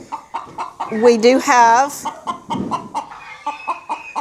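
Chickens cluck and squawk close by in a barn beside a bucket of compost and cow manure, one bird letting out a drawn, rising call amid the busy clucking while a person briefly speaks over them.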